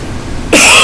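A single sharp, loud cough breaks in suddenly after a moment of quiet room tone.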